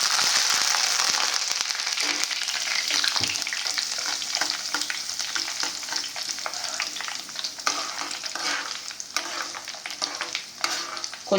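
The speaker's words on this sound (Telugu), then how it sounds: "కొంచెం సేపు ఇలా తాలింపు వేగనివ్వండి" Curry leaves and broken dried red chillies frying in hot oil for a tempering, with steady loud sizzling and crackling plus stirring scrapes throughout, no talk.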